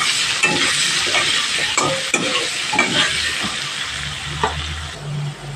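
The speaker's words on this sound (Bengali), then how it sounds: "দিয়ে আলুগুলো একটু ভেজে নেব।" Potatoes fry in oil while being stirred, a constant close sizzle broken by repeated scraping strokes of a utensil against the pan.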